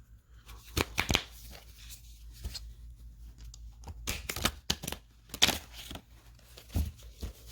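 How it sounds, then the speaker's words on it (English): An Egyptian tarot card deck being shuffled by hand, with a run of soft, irregular riffling and papery flicking bursts close by in a quiet room. "So I'm going to shuffle it up a little bit"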